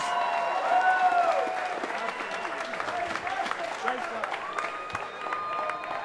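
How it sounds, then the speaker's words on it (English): Crowd applause at a split-decision fight night, mixed with cheering, ringing out loud and sustained across the whole stretch after three rounds of action between Kristofferson Esguerra and Zachary Kraschinsky. "let's give both fighters a big round of applause"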